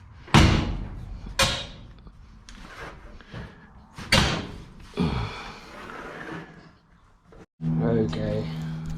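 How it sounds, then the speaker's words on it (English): A Datsun 1200 coupe door is swung shut several times, giving a series of loud, close, solid thuds and slams spaced a second or two apart, with some breathy voice sounds and handling noise in between. "now we'll shut the door and see what's happening."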